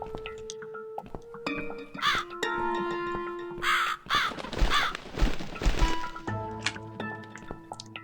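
Several crows caw loudly and repeatedly over tonal, eerie background music in The Cat Lady video game, with overlapping harsh calls and a few thuds.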